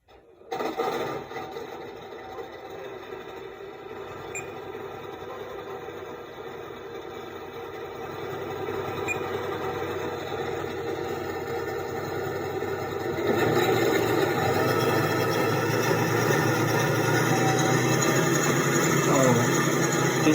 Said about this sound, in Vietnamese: Rồi, đây là tiếng của T55.